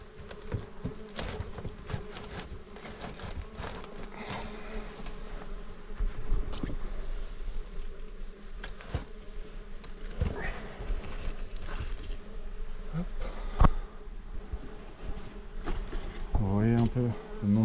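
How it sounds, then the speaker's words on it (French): A swarm of wasps drones and buzzes inside a cardboard box packed with insulation, a dense, continuous close-up hum with individual insects flaring louder and occasional scraping and rustling of the cardboard. "Vous voyez un peu le nombre de guêpes qu'il y a"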